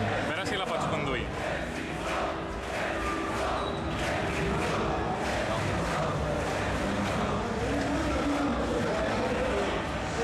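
A car drives in the video game Tomb Raider Underworld, with a continuous engine and road rumble. A voice talks over it throughout.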